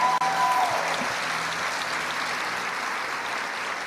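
A church congregation breaks into sustained applause, a dense steady wash of clapping that starts loud and holds at an even level throughout with no one speaking.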